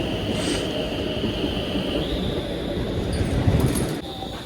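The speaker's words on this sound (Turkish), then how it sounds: "Aa yeni tren geldi yine." A train pulls into a station in Sweden with a loud, continuous rolling rumble and a thin, sustained metallic whine that shifts pitch partway through.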